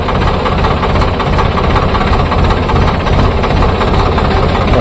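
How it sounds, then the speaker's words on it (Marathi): A tractor engine runs loud and close, with a steady rough diesel chug and knocking throb that holds unbroken the whole time, with no voices over it. "आपण चालू करली ते ट्रॅक्टर"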